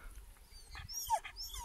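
Dogs on a farm whine and whimper eagerly before a walk, with high thin whines rising and falling over low background rumble, fairly close.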